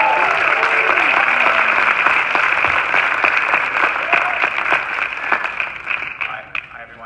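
At a world premiere screening at the Sydney Film Festival, an audience applauds to welcome the film's director. Dense, steady clapping from a large crowd fills the room and tapers slightly toward the end.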